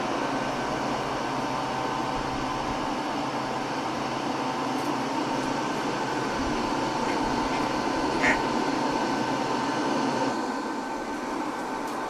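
A heat gun runs steadily through a LiFePO4 12V battery discharge test, giving a constant broadband whir with a faint fan-like hum, held at an even level for the whole stretch with only a brief click near the end.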